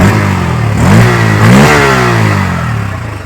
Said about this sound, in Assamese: বাকী এক্সট্ৰা একজষ্ট নোটটো শুনি লোৱা